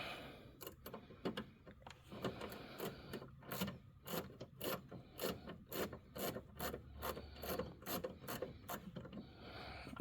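A ratcheting wrench turns a bolt on a C5 Corvette headlight motor. Quick, faint, close-up clicks repeat in a steady rhythm, pausing briefly before resuming in bursts.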